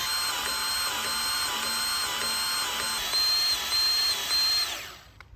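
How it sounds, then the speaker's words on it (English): A grease gun pumps grease into an excavator fitting, giving a loud, steady mechanical whine that holds for about five seconds with small pitch shifts before cutting off abruptly. "You can hear that grease being pumped in there now."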